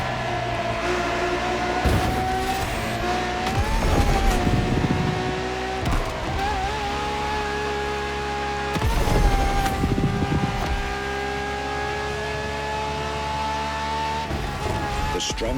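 A Ferrari V12 hybrid race car in the video game The Crew Motorfest roars with a loud, sustained engine note that climbs and drops through gear shifts, with bursts of tire squeal and skidding.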